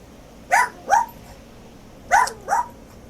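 A dog barks twice in quick pairs, two sharp barks, a pause, then two more, heard indoors at moderate distance over quiet room noise with no talking.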